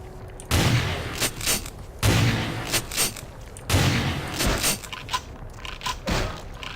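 Shotgun blasts in a video game, three loud booming shots spaced about one and a half seconds apart, each followed by shorter clicks and impacts, with no talk.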